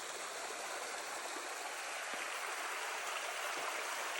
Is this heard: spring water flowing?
yes